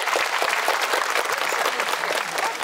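An audience at a summer fair's bridal fashion show gives a bride steady, dense clapping, loud and close, from many hands with no talk over it.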